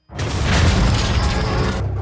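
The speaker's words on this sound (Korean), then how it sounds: "폭발 소리를 들은 독일 병사들." A sustained explosion roars through a spy action film scene, a loud, dense blast that swells in at once and rumbles heavily for about two seconds before starting to fade.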